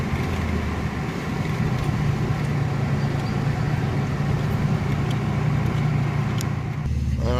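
Driving along, a Chevrolet Celebrity Eurosport's engine runs with a steady, moderately loud hum and road rumble that carries on evenly before easing near the end, with no speech.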